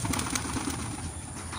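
Racing pigeons flying in and landing, with a steady rush of flapping wings and faint coos over an outdoor background hiss, no talk.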